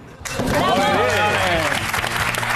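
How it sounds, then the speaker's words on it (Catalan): A studio audience at a Catalan talk show breaks into sudden applause for a guest author, loud sustained clapping that begins abruptly, with a voice speaking over it. "Un aplaudiment per en Sergi"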